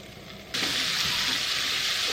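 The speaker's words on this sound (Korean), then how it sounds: "이렇게 오일 두른 팬에 새우 먼저 구워주고요." A sudden loud hiss of thawed shrimp hitting a hot oiled pan, then a steady close sizzle that continues without pause.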